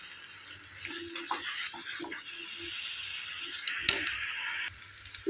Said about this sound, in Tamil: நல்லா கொதி வந்துருச்சு ஆஃப் பண்ணிடலாம்